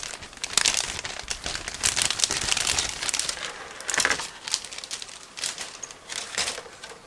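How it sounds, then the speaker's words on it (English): Crinkly plastic rustles and crackles in irregular bursts, close up, as a plastic bag holding the sprues of an ICM 1/32 Gloster Gladiator Mk.II model kit is handled and opened. "So all frames come in the single plastic bag. I'm now opening it."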